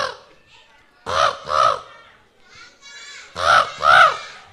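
At a children's puppet show, a performer's voice imitates a crow with four loud, nasal caws in two quick pairs, separated by quieter chatter and speech.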